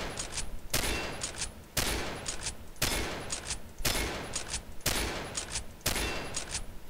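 M24 sniper rifle firing no-scope shots in Combat Arms: six loud, sharp reports spaced about one second apart at a steady rhythm, each with a ringing mechanical tail of bolt cycling between them.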